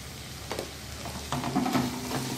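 Spices, homemade masala and red chilli powder sautéing in a pan for a peas and potato dish, a low sizzle with a few quick stirring scrapes over a brief moment.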